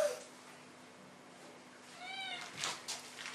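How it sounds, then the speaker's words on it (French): A cat with unusual breathing gives a short, close meow lasting about half a second. Quiet room noise surrounds it, and a few faint rustles follow. "Elle miaule tout le temps."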